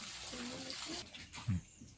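Water is poured from a bottle into a chicken drinker, giving a brief soft splashing trickle close by with a small gurgle near the end, quiet overall.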